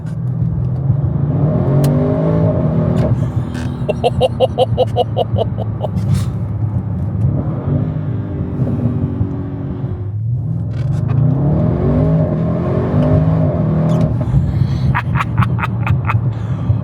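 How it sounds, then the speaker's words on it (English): An Audi RS6 Performance engine revs hard and climbs through its gears, the exhaust roaring and droning continuously, loud and close throughout. "I can hear the exhaust open up"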